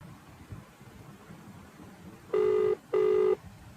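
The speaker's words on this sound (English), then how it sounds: "Would request you to please call Aaron's friend to answer this question" Two telephone ring tones from an outgoing phone-a-friend call on a KBC-style quiz show, each a steady buzzing burst of about half a second with a short gap, clear over a low, noisy background.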